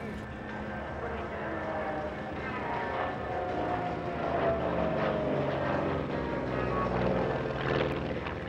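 A Grumman F6F Hellcat fighter with its 2,000-horsepower 18-cylinder Pratt & Whitney radial engine drones steadily at a moderate distance, a continuous propeller rumble that rises slightly midway, with narration heard over it.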